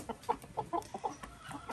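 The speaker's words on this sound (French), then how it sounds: "là, c'est les poules du village" Village hens in a Bamiléké village in Cameroon cluck in short, scattered bursts, fairly faint against outdoor background noise.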